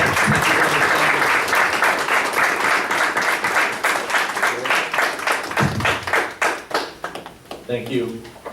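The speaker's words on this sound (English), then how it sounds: "Let's give him another round of applause." Audience applause at a Belleville board of education meeting, steady loud clapping from a room full of people that thins out toward the end, with voices heard beneath it.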